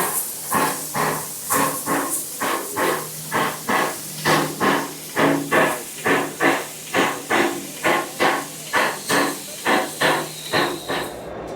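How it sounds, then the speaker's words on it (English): Southern Railway Battle of Britain Class steam locomotive Tangmere, a 1947 engine, standing at Edinburgh Waverley station, gives off loud steady hissing of steam broken by a long run of rhythmic chuffing puffs, close by with no talk. "It was the Tangmere, a Southern Railway Battle of Britain Class 462 steam locomotive."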